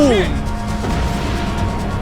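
A cabinet bursts apart in a slow-motion explosion in the Max Payne 3 game, a loud, sudden crash at the start that fades into a rumbling tail, with someone talking over it.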